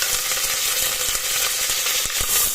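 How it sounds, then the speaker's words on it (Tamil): Green chillies and curry leaves sizzle in hot oil with popped mustard seeds: a loud, close crackling fry broken by light spoon taps and stirring, with no talking. "இப்போது 3 பச்சை மிளகாய் போட்டுக்கிறேன். கருவேப்பிலை ஆட் பண்ணிக்கிறேன்."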